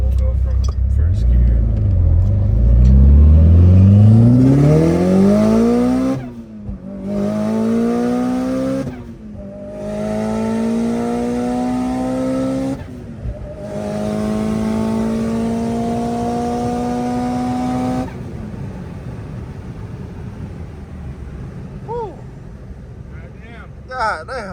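A tuned Mitsubishi Evo accelerates hard from first gear, its engine revving up through several gears with brief gaps at each shift, loud and close, then settles as the car cruises and people talk.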